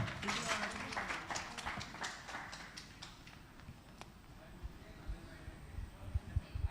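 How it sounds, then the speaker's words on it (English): Audience applause at a magazine cover launch event on stage, a dense, fairly distant crackle of clapping that thins out over several seconds with voices mixed in. "A round of applause for Vikas."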